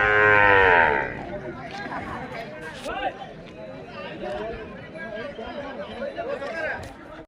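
At a Sunday ox market in Mudgal, a bull lets out a loud, close low moo at the start. Crowd chatter and someone talking continue over the busy market noise afterward.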